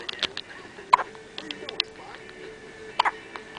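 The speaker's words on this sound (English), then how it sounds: "Oh, hiccups." A little short-legged creature hiccups: two sharp, short hiccups about two seconds apart, close by, with small chirpy sounds and a faint room hum between them.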